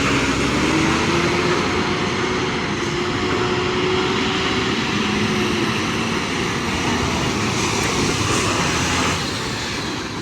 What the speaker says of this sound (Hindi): इतना ज़बरदस्त पावरफुल इंजन है फिर भी चढ़ नहीं पाती है।